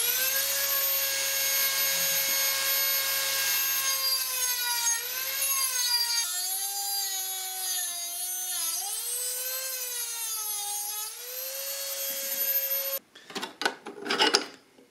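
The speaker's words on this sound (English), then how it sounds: "It's just small enough that I think the best tool is the Dremel." A Dremel rotary tool cuts through a metal HVAC bracket on a 1976 Mazda RX-5 Cosmo, a loud high-pitched whine that shifts and dips in pitch as it bites, then stops, followed by brief scraping and handling noises.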